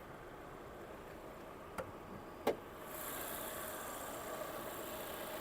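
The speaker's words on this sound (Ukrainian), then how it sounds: "Двигун працює без зауважень, абсолютно класно, без якихось посторонніх шумів" A 2018 Volvo S60 2.0 petrol engine with automatic transmission idles with a low, steady hum at a distance, with two sharp ticks early on, then a brighter hiss joins the drone for the rest.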